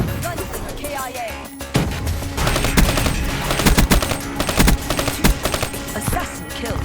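XR-2 assault rifle firing in Black Ops 3, rapid sharp automatic bursts in quick clusters amid other game combat noise, loud and close, with a voice briefly heard near the start.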